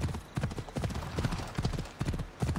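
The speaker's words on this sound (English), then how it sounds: "I'm riding in on Hades' horse as well." Horse hooves clip-clop in a fast, steady rhythm, close and continuous throughout, in the video game Assassin's Creed Odyssey.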